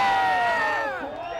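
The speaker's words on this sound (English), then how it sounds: "The Aussie contingent cheering him on." Australian spectators cheer and shout at a pro surfing contest, a loud continuous crowd roar with rising whoops that eases off slightly toward the end.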